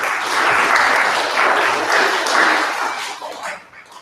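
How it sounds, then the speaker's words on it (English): Audience applause for a grade 5 students' school stage performance, a steady wash of many hands clapping that holds strong for about three seconds before thinning and fading out near the end. "So let's also give them a round of applause."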